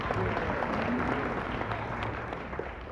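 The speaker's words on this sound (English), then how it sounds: "Awkward claps. Let's just make it awkward." A live podcast summit audience gives a short round of deliberately awkward claps, a dense patter of hands that is steady at first and then gradually thins out.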